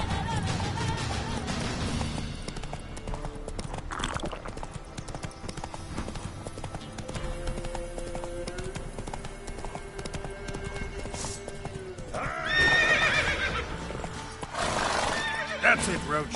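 Roach the horse in The Witcher 3: Wild Hunt galloping with rhythmic clip-clopping hooves, joined by loud whinnies and neighs near the end over game music, with a voice talking in places.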